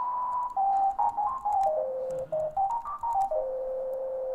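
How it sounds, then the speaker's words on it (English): Self-oscillating resonant bandpass filter on a synthesizer with high resonance and key tracking, sounding as a series of pure, ghostly sonar-like pings that step between pitches, loud and alone with no talk. "this filter has the resonance parameter turned up so much it does what's called self-oscillation, and you can get this kind of like, yeah, ghostly sonar ping type of sound"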